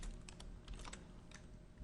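Quiet, close keyboard clicks tap in an irregular rhythm as someone types a short word on a computer keyboard while working in Adobe After Effects.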